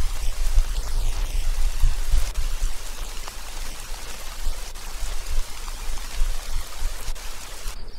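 Rain in the children's video game Dora the Explorer: Click & Create falls as a steady, close patter of drops on a surface, with a constant hiss that cuts off sharply at the very end.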